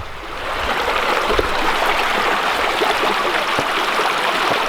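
A river rushes and gurgles steadily nearby at an old 1700s site, a dense, loud, continuous wash of flowing water with no voices.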